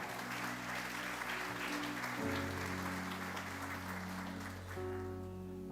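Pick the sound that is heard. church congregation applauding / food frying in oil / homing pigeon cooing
church congregation applauding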